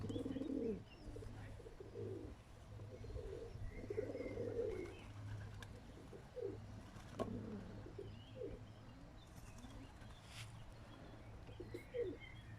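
Pigeons coo softly from a rooftop loft under a clear sky, low repeated calls with a few chirps over quiet outdoor ambience.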